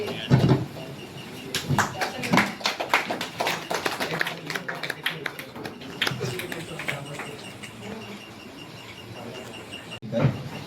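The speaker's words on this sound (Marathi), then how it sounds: "सर्वांनी जोरदार टाळ्या वाजवायच्या" At a municipal counselling-centre inauguration for transgender people, an audience claps during a felicitation, bursts of hand claps rising and thinning over several seconds amid voices and room noise, then fading to scattered taps.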